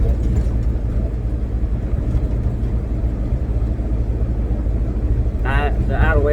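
A truck engine idles steadily after a drilled throttle body fix meant to curb surging and bucking with a big cam, a low continuous rumble throughout, with a person talking briefly near the end.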